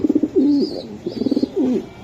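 A Dakatia pigeon coos up close, repeated soft throaty rolling coos in short bursts with brief pauses between them, loud and clear with no talk over them.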